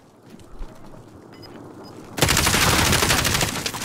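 Rapid automatic gunfire erupts in a Warzone duos match, a dense loud burst of shots that starts abruptly partway through after quieter game ambience.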